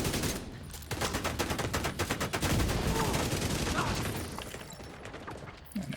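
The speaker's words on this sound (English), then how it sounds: "That turret wasn't actually firing at me." Rapid bursts of automatic gunfire from a deployed turret in a hardcore-mode shooter game, dense and continuous for several seconds with a few sharper shots standing out, loud and close.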